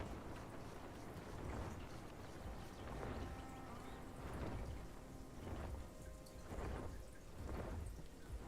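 Steady rainfall in the video game Path of Titans hisses throughout, with soft rolling swells like distant thunder recurring every second or so, moderately quiet and with no speech.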